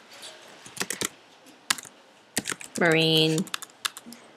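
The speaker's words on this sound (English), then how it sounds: "I'm typing faster than my brain" Fast bursts of typing on a computer keyboard, clicky and close, with a person talking in between and a brief tonal sound midway.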